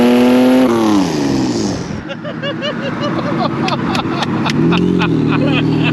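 A turbocharged Ford BA Falcon engine revs and whines loudly, pitch rising and falling through several bursts, with voices talking over it.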